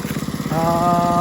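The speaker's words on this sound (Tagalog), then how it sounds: "Nakakabit na natin yung water pump." A small water pump engine runs at a construction site where a roof deck slab is being poured, giving a steady, loud, buzzing hum that settles into a smoother, higher drone partway through.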